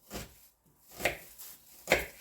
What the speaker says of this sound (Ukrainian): нарізаю цибулю